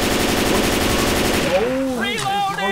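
Rapid automatic gunfire in Left 4 Dead 2 rattles loud and close for about a second and a half, then cuts off as shouting voices take over.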